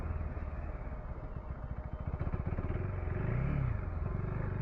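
A motorcycle, lighter than a KLR, rides through sand with a steady engine drone and chugging low rumble, rising briefly in a rev near the end, close and loud with no talking.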